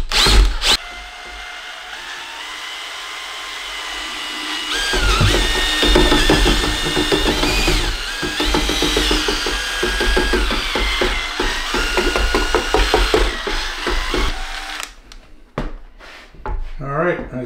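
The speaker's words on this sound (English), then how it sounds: "This mixing paddle is usually used for spackle premix. But it works on this paint as well." Power drill fitted with a mixing paddle churns paint in a bucket, running loud and close for about ten seconds with a grinding, rattling whirr, then stopping, after which a person talks.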